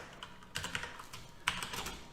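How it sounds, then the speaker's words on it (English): Typing on a computer keyboard while entering parts into a PCB schematic: bursts of quick, close key clicks with short pauses, louder clusters at the start and middle, no voices. "Why are you typing in capitals all of a sudden, Anish?"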